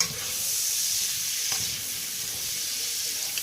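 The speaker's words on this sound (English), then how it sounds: "really successfully sauteing asparagus is not necessarily hard" Asparagus sautéing in a pan gives a steady, even sizzle and hiss throughout. A faint stirring scrape sounds near the middle, and there is no talking.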